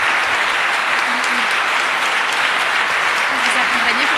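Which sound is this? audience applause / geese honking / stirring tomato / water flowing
audience applause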